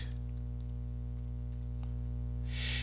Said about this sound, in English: For this example, I'm going to type in New Brunswick.